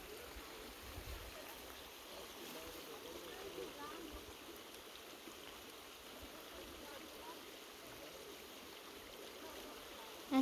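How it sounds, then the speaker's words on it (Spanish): A river flows through a ravine at Quebrada de Xecnup in Joyabaj, a faint, steady broadband rush that carries on evenly throughout. "el canto de los pájaros, el sonido del río."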